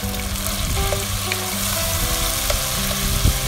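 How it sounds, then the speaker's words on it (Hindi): Carrots and julienne-cut capsicum fry in a pan for chow mein, giving a steady close sizzle with light stirring clicks and no talk. "इसको भी हल्का सा फ्राई करें।"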